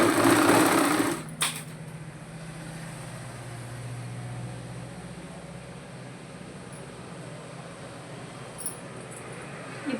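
A sewing machine stitches the hem of a blouse: a brief louder burst at the start, then a steady, even mechanical whir running continuously at close range.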